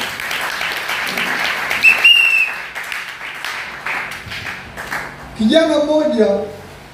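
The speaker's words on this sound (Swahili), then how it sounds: "Pigie Yesu makofi mazuri." A church congregation at an FPCT youth service applauds in a dense, steady wash of clapping, with a few shrill whistles cutting through before a voice breaks in near the end.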